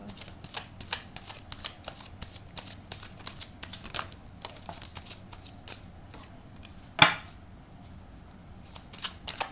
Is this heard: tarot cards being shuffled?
yes